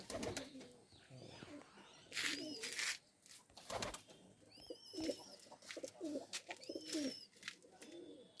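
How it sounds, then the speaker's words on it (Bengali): Kalshira pigeons coo softly and repeatedly in a close, quiet setting, with soft throaty calls broken by brief rustles, knocks and a few faint high chirps. "এটা কালশিরা পায়রা"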